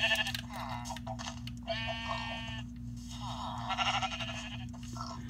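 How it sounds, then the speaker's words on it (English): Sheep in the Minecraft video game bleat repeatedly in short harmonic calls over a steady low background hum, some calls close and loud, others softer. "These sheep are really annoying today."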